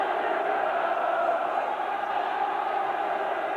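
A football stadium crowd at a 1993–94 Norwich City versus Manchester United match gives a sustained, steady roar of cheering that holds at an even level throughout, with no distinct voices standing out.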